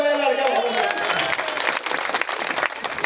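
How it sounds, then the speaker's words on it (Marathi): Loud audience applause from a crowd at a public address, dense clapping throughout with voices over it at the start. "जरा जोरदार टाळ्या वाजवा लाडक्या भावांना"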